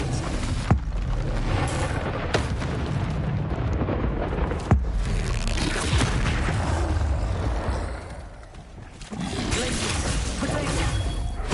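Blasts from the Confringo fire spell in Hogwarts Legacy boom one after another over a dense, roaring battle din, with sharp bursts near the start and a brief lull before the noise surges again.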